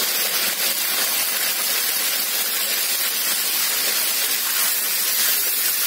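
Chicken pieces fry in oil with two spoons of ghee, giving a steady, even, close sizzle that hisses without a break.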